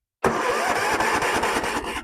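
A Tecumseh 17.5hp ride-on mower engine cranking on a worn starter, starting abruptly after silence and churning steadily close up with a rough, rhythmic pulse.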